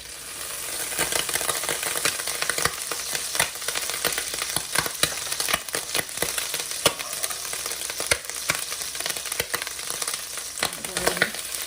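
Butter sizzling in a pan for Jamaican-style stir-fried cabbage, a close, steady crackling and spitting with dense popping and bursts of frying throughout, no voices.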